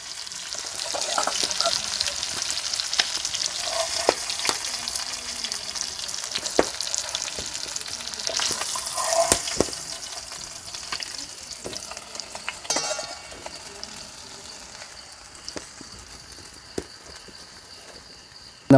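Komle fish shallow-frying in a pan, a continuous sizzle broken by scraping and stirring clatters, loud at first and gradually settling quieter.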